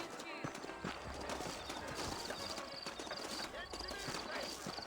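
Horse hooves from the Red Dead Redemption video game, saddled horses clip-clopping in a quick, steady rhythm under a busy game soundscape, with faint voices and ambient noise mixed in.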